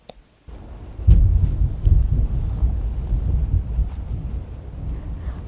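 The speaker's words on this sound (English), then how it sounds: "I love the sound of thunder." Deep, rumbling thunder rolls on continuously with heavy low-end booms and a windy roar. It swells loudly after a quiet start and slowly fades, with no talking over it.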